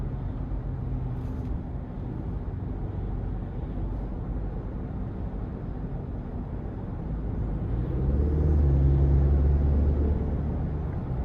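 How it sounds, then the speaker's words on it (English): Engine of a 2026 GMC Canyon Denali pickup rising under light throttle, a steady low rumble that swells near the end, with a faint high whistle from the turbo blow-off valve. "give this thing like a little bit of throttle and hear that blow off valve there. Nice whistle."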